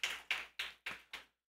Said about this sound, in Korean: 우리 앤드류한테 박수 한번 쳐줄까요?